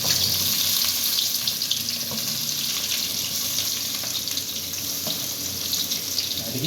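Onions hit hot oil in a pan while cooking sambar, giving a loud, continuous hiss and sizzle that holds steady throughout with no talking.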